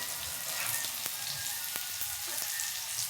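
Onions sautéing in a pan for dried anchovy rice give a steady, close sizzle and crackle, with a few sharp ticks of a spoon against the pan and no voices.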